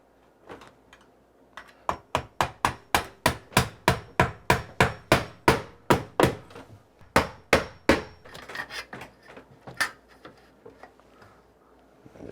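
Drywall nails are hammered through metal corner bead into a wall with a long run of sharp, evenly spaced blows. The strikes are close and loud, and they slow into scattered taps near the end.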